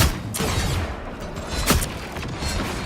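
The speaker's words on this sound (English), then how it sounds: "Someone is shooting at us." Rapid gunfire crackles in Marvel Rivals, a loud, dense burst of repeated shots with a few sharper cracks amid busy battle noise.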